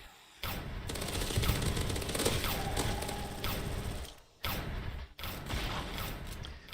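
Rapid automatic gunfire from turrets and weapons mowing down zombie waves in the survival game Zombie Rush, dense and continuous, breaking off briefly twice before resuming at full volume.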